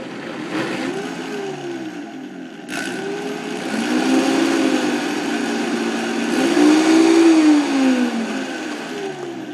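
Vitamix blender whirring through sweet potatoes and apple for baby food, a steady loud motor drone that climbs in pitch as the speed is turned up, with the blade load shifting as the mixture churns.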